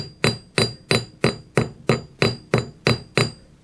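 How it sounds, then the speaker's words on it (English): Ten light, evenly spaced hammer strikes ring on metal while a bent bracelet is forged, each a crisp clink that fades quickly, steady in rhythm and close by, with no speech. "Light hammer strokes, hammer dropping in the same place."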